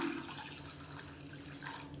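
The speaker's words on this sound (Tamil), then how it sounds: "நல்லா மசிச்சு விட்டுட்டு இப்போ தேவையான அளவுக்கு தண்ணி சேர்த்துக்கலாம்." Water pours into mashed dal for sambar in a pot, a continuous splashing, bubbling flow, close and moderately loud, with no talk over it.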